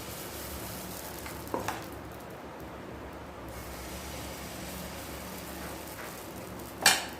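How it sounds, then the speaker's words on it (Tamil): Soft, steady sizzling of batter on a hot griddle, faint and continuous, with a couple of brief clinks or scrapes. "தவாவில் சின்ன சின்ன பேன் கேக் மாதிரி ஊற்றிக்கோங்க"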